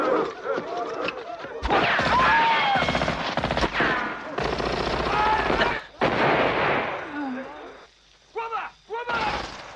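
Loud, rapid bursts of gunfire from firearms in an attack in the Amazon jungle crackle in clusters, broken by short pauses, with voices mixed in among the shots.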